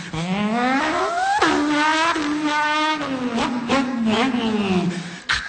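A voice imitates racing car sounds, a continuous buzzing engine drone that rises and falls in pitch like gear changes and revs, loud and close throughout.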